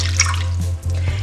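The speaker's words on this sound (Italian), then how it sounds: "Per prima cosa versiamo l'acqua in una casseruola" Water poured into a saucepan while preparing chickpea flour sticks, a steady close pour with a low rumbling stream and a brief dip partway through.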